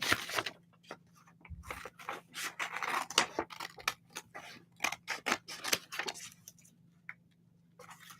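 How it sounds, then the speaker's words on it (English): Scissors snip through fursuit paw fabric in a quick, irregular series of close, crisp cuts, with a low steady hum running underneath and no voices. "I'll just cut around and cut the darts out after"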